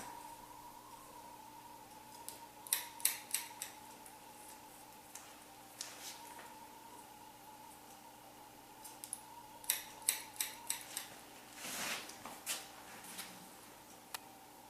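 Scissors snipping through hair during a short wispy haircut with blunt bangs, a few quick clusters of close, crisp cuts spaced apart over a quiet background, with no talking.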